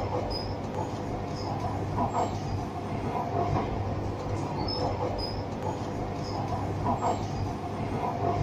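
A Chennai Metro train runs steadily between Tondiarpet and New Washermanpet, heard from inside as a continuous low rumble of wheels on rail with faint rhythmic clicks and occasional high squeaks.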